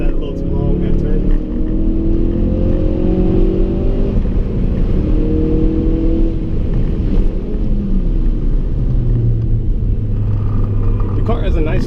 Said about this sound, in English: The car has a nice 3rd gear pull.